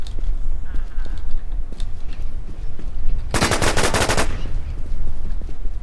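Machine gun fire in the shooter game War Inc, a loud rapid burst of about a second standing out sharply over steady game ambience.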